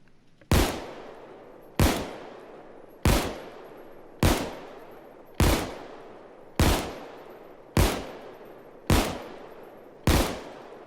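Nine single shots from an M1911 Crosskill pistol in Payday 2 fire at a steady, roughly one-per-second pace, each a sharp loud crack with a short decaying tail, with no talking.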